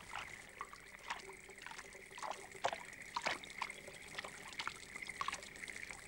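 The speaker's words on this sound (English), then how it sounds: "they're brushed in boiling water" Silk cocoons are brushed in boiling water on a reeling machine. Faint, irregular splashes and trickles repeat every second or so, with light clicks and a low background hum.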